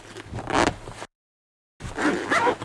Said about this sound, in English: Hold on, I gotta zipper up this pocket.